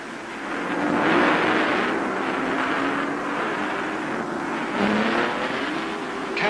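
Period 1955 Lancia and Mercedes Formula 1 race cars roar along the Monaco street circuit, a steady engine drone swelling as the cars pass, somewhat distant with a rough, broad texture.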